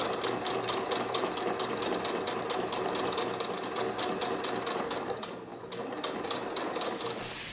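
A sewing machine stitching a fabric bag runs steadily in a fast, even needle rhythm, loud and close, with a brief slowdown before resuming.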